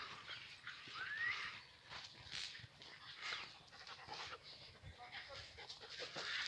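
Dogs pant and whimper faintly outdoors in a dog park, with scattered rustling and small yips; nobody speaks.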